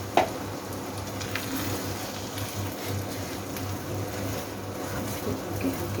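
Vegetables sizzle in a pan while being gently stirred during home cooking, a steady soft frying hiss with faint scraping, continuous and moderately close.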